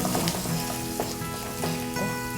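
Onion sautéing in a pan, a steady close sizzle with light crackles and a few soft stirring scrapes, no voices over it.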